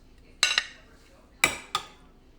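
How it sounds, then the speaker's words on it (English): Curry shrimp with potatoes is spooned onto a plate beside Jamaican rice and peas, giving two pairs of sharp utensil-on-dish clinks, close and clear against a quiet kitchen background. "And earlier I made the curry shrimp. And I am going to put some of that on the plate."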